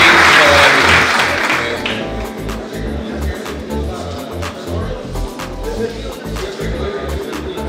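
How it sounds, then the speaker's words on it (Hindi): Steady audience applause at a retailer prize distribution ceremony, many hands clapping in a dense, continuous patter with a few sharper claps standing out, holding at a fairly even level throughout. "आप सबकी एक बार तालियां।"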